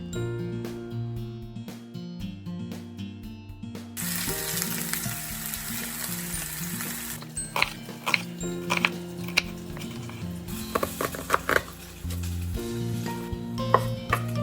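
Pork belly slices sizzle and spit in a hot pan, a steady hiss with scattered pops and clinks of utensils, close by and fairly loud.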